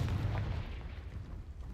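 A Confringo fire-blast spell goes off in the Hogwarts Legacy video game with a deep, booming explosion that hits hard and then rolls away over under two seconds.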